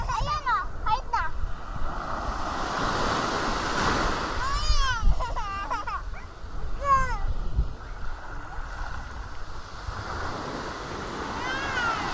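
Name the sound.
ocean waves at Saud beach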